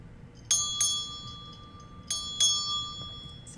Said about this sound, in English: I always like to ring my bell at the beginning and end of class